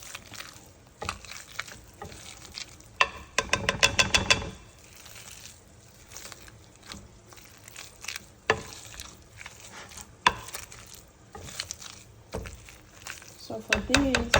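Potatoes are mashed with butter, giving soft squishing and irregular clattering taps of a masher against the pot, close and fairly quiet, with gaps between bursts.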